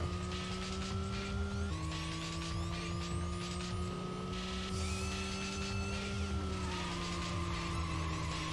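Nissan RB26 engine in the racing video game Racing Lagoon, a steady synthesized engine drone with shifting pitch that drops at gear changes, running continuously and fairly loud with no talking.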